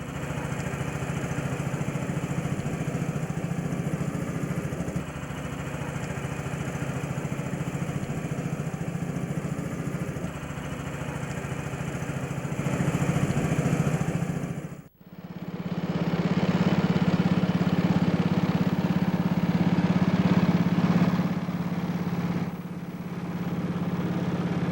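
A miniature F7 diesel locomotive with a 5.5 horsepower engine driving hydraulic pumps runs steadily on a live-steam club track, a constant mid-pitched engine drone that dips briefly midway and then returns with a firmer low hum.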